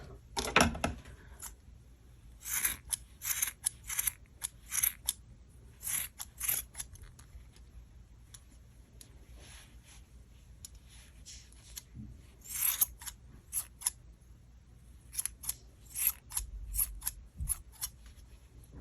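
Scissors trim the ends of a crochet yarn tassel with a long series of crisp, close snips in irregular bursts. Quiet pauses separate the cuts.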